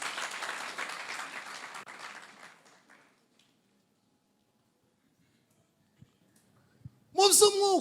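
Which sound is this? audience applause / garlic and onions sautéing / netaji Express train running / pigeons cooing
audience applause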